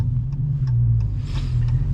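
A GMC tow truck with dual rear wheels gives off a low, steady engine rumble close by, with a faint lighter hiss rising midway.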